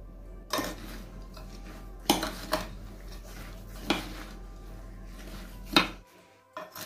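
Vanilla sugar and egg white being mixed in a bowl for a pakhlava filling, with several sharp clinks of a utensil against the dish spaced irregularly over a low steady background, close and fairly loud.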